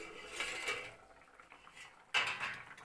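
A metal pot lid clinks faintly against a cooking pot on the stove while a vegetarian soybean dish simmers, with soft scraping followed by one brighter clank near the end.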